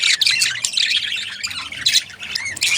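Pet budgerigars squawk and chirp close by in bright, rapid bursts, overlapping scratchy calls with brief pauses and no talking.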